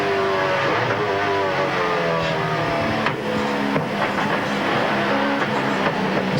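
A Gibson Motorsport Ford Falcon V8 Supercar races in the 2001 championship, its engine roaring loudly and continuously with rising and falling revs through the gears, heard as onboard racing noise without talk.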